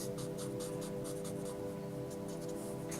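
Pencil drawing lines on paper while sketching a comic-style Nick Fury, with quick repeated faint scratching strokes over a steady background hum, close and quiet.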